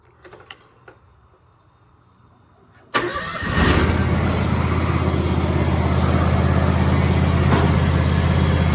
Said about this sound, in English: I'm going to fire it up and we'll see it start spinning